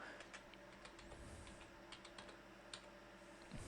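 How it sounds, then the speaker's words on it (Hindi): Quiet, steady typing on a computer keyboard as an email address is entered, with soft irregular key taps and clicks close by against a faint background hum. "जैसे मैं अपना सेकंड ईमेल लिखता हूँ"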